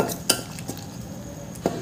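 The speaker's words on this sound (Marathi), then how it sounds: "आणि हे आपल्याला छान मिक्स करून घ्यायचं आहे." A spoon clinks against a bowl while jowar flour batter with capsicum, carrot, onion and tomato is stirred, giving a few sharp metallic taps spaced apart over a soft, steady background.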